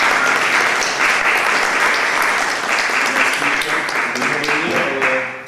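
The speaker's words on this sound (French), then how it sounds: "je voudrais qu'on puisse, si c'est possible, applaudir" Sustained applause from an audience at a poetry gathering, a dense, loud wash of clapping that holds throughout and begins to thin as a voice comes in near the end.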